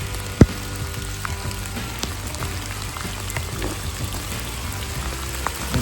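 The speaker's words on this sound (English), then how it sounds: "we're gonna get out of here because it's pouring down rain" Heavy rain pouring down at an outdoor 3D archery range, a steady dense hiss of drops with scattered sharper taps and one louder knock early on, no voices.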